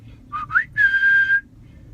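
A phone notification plays a whistle sound: two short rising chirps followed by one longer sustained tone, clear and close against a quiet background.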